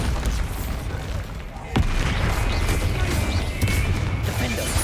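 In the Hogwarts Legacy video game, the Bombarda spell explodes with a sudden sharp boom that rises out of dense combat noise and dies away into a loud, rumbling wash.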